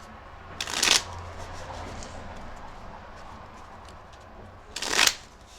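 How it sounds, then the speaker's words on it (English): Tarot cards are shuffled in two quick riffling bursts separated by a few seconds of quiet room tone, each burst crisp and close to the listener. "We'll shuffle this a few more times."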